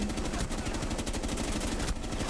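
Rapid, continuous automatic gunfire from a Rainbow Six Siege match, dense and steady throughout with a brief pause near the end, no talking.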